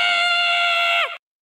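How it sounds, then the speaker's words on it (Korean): Sustained high-pitched scream from an anime character at a hotel, a single loud cry held steady for about a second before bending downward and cutting off, heard alone. "한 비명소리가 들려옵니다"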